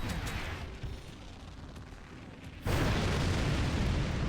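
Weapons open fire in the strategy game Forts with a continuous rumbling barrage that swells suddenly into a loud, dense roar of blasts partway through, with no talking over it.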